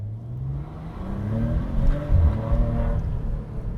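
Maserati Ghibli S Q4 pulling away under gentle acceleration, engine note rising smoothly in pitch over a few seconds, heard from inside the car with no talking.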